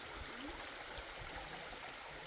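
A river in the Lake District flows steadily under a medieval bridge, with a continuous rushing and gurgling wash of water close by and no voices.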